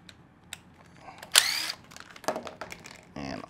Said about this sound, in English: I'm gonna remove these two screws to take off this right front fender panel.